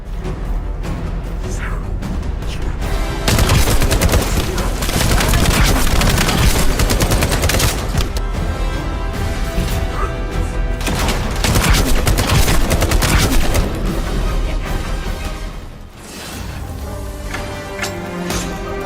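Loud, dense bursts of gunfire and explosive booms fill a trailer for a class-based looter shooter with skills, guns and a grappling hook, set over a busy music-like backdrop with a brief lull near the end.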